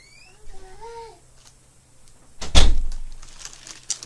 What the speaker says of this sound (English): Okay, close the door, please, Deshaun.